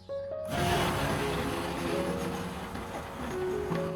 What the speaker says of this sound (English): Next, I put the mixture into a blender and blended it until smooth.